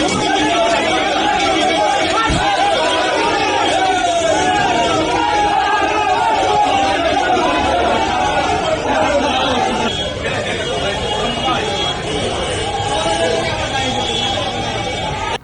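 An angry crowd shouts and jeers at arrested former TMC MLA Sabyasachi Datta as police hold him. A steady, dense babble of many voices carries at constant loudness throughout.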